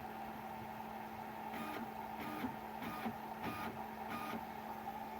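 Snapmaker 3D printer bed driven forward and back, giving a steady mechanical hum with a series of five short, regular whirring stepper-motor bursts at moderate level, no talk.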